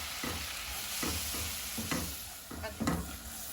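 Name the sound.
stirring flour into a pan on the stove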